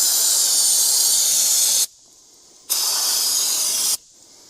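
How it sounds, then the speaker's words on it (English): Brake cleaner sprayed from an aerosol can around the engine of a Massey Ferguson 50 tractor, heard as two loud, steady hissing bursts of nearly two seconds each with a short quiet gap between them. "I'm going to spray a little brake cleaner around it"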